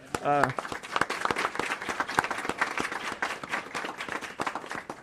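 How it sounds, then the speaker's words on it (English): People at a mayor's press briefing on COVID vaccine distribution break into applause: a brief voice at the start, then a moderate, uneven patter of clapping hands from a modest group. "So come on, applaud."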